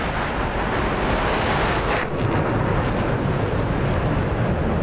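F-4M Phantom jet engine roaring in a flight simulator, a steady loud broadband rush with no breaks.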